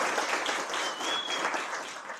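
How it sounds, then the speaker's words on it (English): An audience at a high school poetry slam claps, a dense and steady patter of hands that holds at an even level for a couple of seconds and then stops. "A round of applause for Caitlin."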